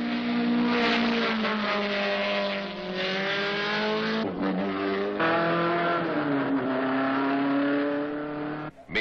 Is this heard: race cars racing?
yes